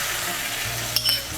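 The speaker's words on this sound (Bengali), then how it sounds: "সর্ষে পোস্তর পেস্টটা মিশিয়ে নেব।" Mustard and poppy seed paste being stirred into vegetables cooking in a pan, with a steady close sizzle of frying and a few soft scraping and clinking touches from the spoon near the end.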